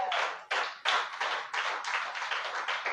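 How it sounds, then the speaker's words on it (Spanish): A church congregation applauds together, loud and sustained rhythmic clapping close by, with steady accented bursts through the whole stretch and no voices on top. "A su nombre, aplauda a Dios, por favor, con propiedad."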